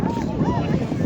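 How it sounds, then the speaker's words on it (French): Outdoor wind at a live street event in Saint Bauzély, rumbling steadily through the whole second with gusty low noise and faint background activity. "Je pensais pas qu'il allait faire du vent en fait."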